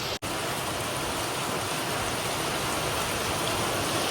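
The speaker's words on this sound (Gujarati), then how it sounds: "અમારે અત્યારે 5:30 વાગ્યા છે ને વરસાદ ફૂલ આવ્યો છે અત્યારે" Heavy evening rain pours down as a dense, even, loud hiss that runs without a break apart from a tiny dropout near the start, with no voices.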